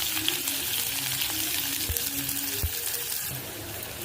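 Close, steady sizzling and crackling of mustard seeds, urad dal and chana dal frying in hot oil for wheat rava upma, with a few soft pops and no talking.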